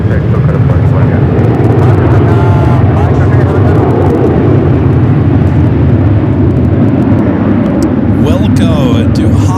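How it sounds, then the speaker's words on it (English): An Avianca Airbus A320neo jet at LAX airport, a loud, steady broadband engine roar that persists the whole time, with a voice talking over it near the end. "Avianca flight heading to San Salvador, that A320neo"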